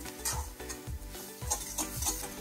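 Masala for a mushroom pallipalayam is stirred and sautéed in a pan. About five rhythmic spatula scrapes and knocks sound close up over a quiet, continuous sizzle.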